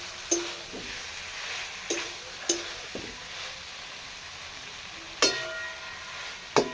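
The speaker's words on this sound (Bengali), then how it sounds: "একটু সামান্য জল দিচ্ছি" Kochu loti (taro stolons) cooking with fish head in a pan, a little water splashed in, hisses in a steady close sizzle, broken by a handful of sharp utensil knocks against the pan.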